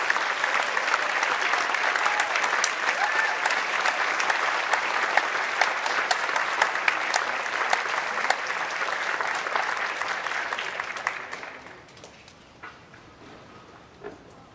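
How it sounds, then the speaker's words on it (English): A large audience at a school winter band concert applauds steadily with dense clapping, then the applause fades out abruptly near the end, leaving quiet scattered claps. "let's give a big round of applause"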